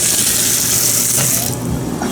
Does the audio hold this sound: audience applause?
no